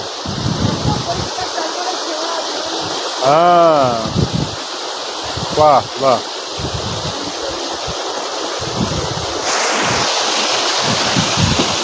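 A mountain waterfall in Darjeeling roars as a steady broadband rush of falling water, close and continuous, while people talk briefly over it.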